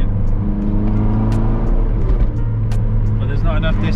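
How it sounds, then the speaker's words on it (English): A Lotus car spinning its wheels on slippery, low-grip ground in fog, a loud sustained engine drone with steady revving, under a voice. "We're just wheel spinning."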